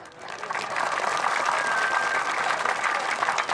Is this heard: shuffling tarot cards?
no